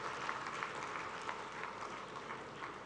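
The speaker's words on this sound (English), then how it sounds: "One round of applause." Faint, distant applause from an audience at a medical graduation ceremony in a hall, a soft, even patter of many hands clapping.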